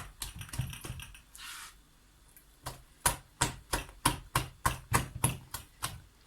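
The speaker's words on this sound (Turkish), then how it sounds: "Hamurumu böyle çırpma, katlama tekniğiyle sürekli karıştırıyorum" Sourdough chia bread dough being whisked and folded in a bowl, with a steady run of sharp, evenly spaced tapping strokes that grow more regular toward the end, close and crisp.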